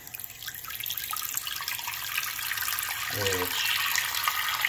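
Water streams steadily from a brand-new hot-and-cold faucet into a bathroom sink with a pop-up stopper. The flow hisses continuously, growing slightly louder toward the end, while a person speaks briefly.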